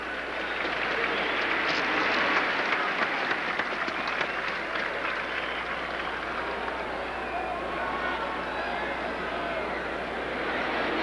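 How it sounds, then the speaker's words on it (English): A stadium crowd applauds young champions headed to a division competition, a broad, steady wash of clapping and cheering that stays fairly loud for the whole stretch, with voices mixed into the noise. "And now let's send these youngsters to the division competition with a nice round of applause."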